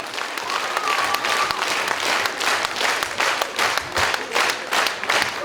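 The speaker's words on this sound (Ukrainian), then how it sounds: "Я знаю, що ви так аплодуєте." An audience applauding at a humorous stage reading: thick, continuous clapping from many hands, loud and even throughout with no voices over it.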